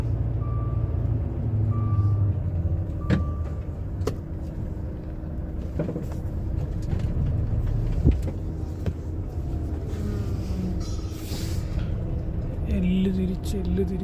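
A lorry reversing while loading onions, its reverse alarm beeping in a steady repeating pattern over a running diesel engine, with voices talking nearby.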